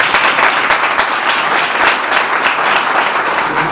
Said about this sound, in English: So a round of applause for all